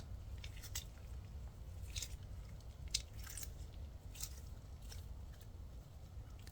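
Kinetic sand is squished and crunched by hand in sand art play, giving soft repeated crackling bursts at an irregular pace, close and quiet with no talk.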